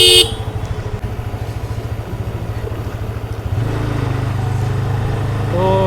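A motorcycle rides a mountain road out of Nainital, its engine putting out a steady rhythmic thrum that rises in pitch and loudness as it speeds up, with no voices.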